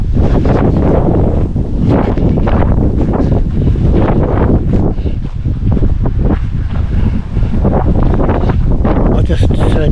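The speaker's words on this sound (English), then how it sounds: "At the moment, of course, it is a bit windy." Strong wind buffets the microphone continuously, a loud roaring rush with gusty swells throughout, on a coastal walk near Scratby and Great Yarmouth.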